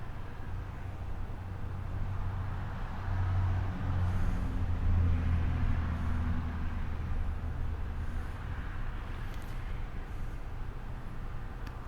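Steady street traffic with cars and trucks rolling past, a continuous low rumble that swells slightly as heavier vehicles go by, with no voices.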